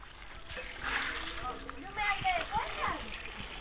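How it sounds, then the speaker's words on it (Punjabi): Vegetables being washed by hand in water in a village home, with splashing and sloshing that comes and goes in short bursts close by, while voices talk in the background. "ਚੰਗੀ ਤਰ੍ਹਾਂ ਧੋਈ ਇਹਨੂੰ ਕਿਉਂਕਿ ਲੂਣ ਲੱਗਾ।"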